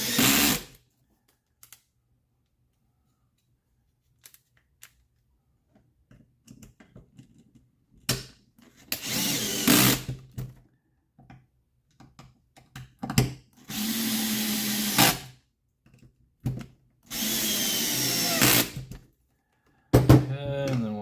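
Power driver driving a screw into the plastic chassis brace of a Tekno ET48 2.0 RC truck build: several short whirring bursts separated by quiet gaps, close and fairly loud, with no talk.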